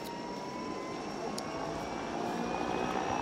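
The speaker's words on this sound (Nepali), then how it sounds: "अब हामी चाहिँ यहाँबाट हेलिकप्टर अब उड्ने प्रयत्न गर्दैछ" A helicopter lifts off near Muktinath temple in the Nepal mountains. Its engine and rotor make a steady, loud whining roar that holds through the whole stretch, with a slight swell toward the end.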